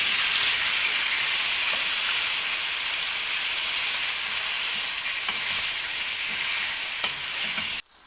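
Chicken coated in ginger-garlic paste sizzles steadily in a pan while being stirred, a dense, even frying hiss lasting throughout with a few faint utensil clicks, ending abruptly.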